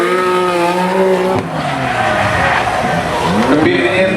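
A Nissan R33 drift car slides at a Drift League event at Irwindale Speedway, its tires squealing loudly and continuously over a roaring engine whose pitch sweeps up and down as it holds the skid.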